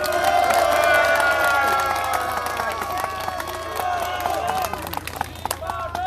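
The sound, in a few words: crowd applause at a ceremony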